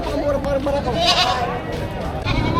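Goats for sale at a Philippine livestock market bleat in short wavering cries, mixed in with close, busy human chatter.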